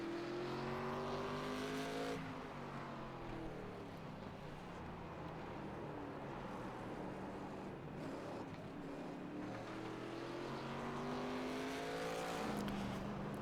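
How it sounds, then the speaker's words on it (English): ARCA Series race cars roar around the Sonoma road course, engines loud and continuous with rising and falling revs as cars pass close by, sustained throughout without pause. "Jesse Gordon is going wire to wire and is going to be your race winner at Sonoma in the PCs by Thomas ARCA Series."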